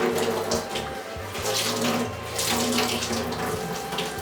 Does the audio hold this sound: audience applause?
no